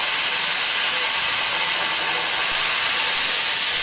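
A Makita MAK 100Q one-gallon, 0.7 CFM quiet air compressor runs with a steady, close, fairly loud airy hiss and motor whir that holds unchanged throughout, with no talking.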